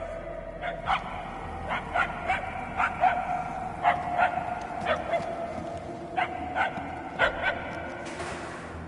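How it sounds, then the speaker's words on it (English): Distant dog barking, a series of sharp yelps in uneven bursts across several seconds, fairly faint against a quiet outdoor background with a brief noisy swell at the end. "I can hardly hear the dog."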